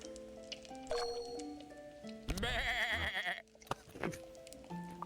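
An angry pet sheep in a video game bleats loudly in a long, wavering cry, set against background game music and chimes.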